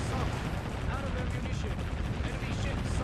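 Battleship guns firing in Warship Gunner 2, a dense, continuous barrage of booming shots and blasts that fills the whole stretch at a steady, loud level.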